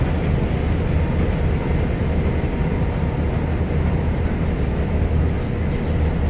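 A ScotRail train runs on the Borders Railway toward Tweedbank in the rain, heard from inside as a steady loud low rumble and broadband hiss of motion with no speech.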